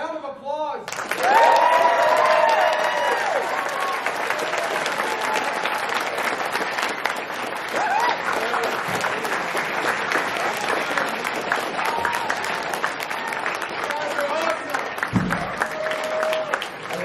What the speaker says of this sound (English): All right, Lexington, round of applause.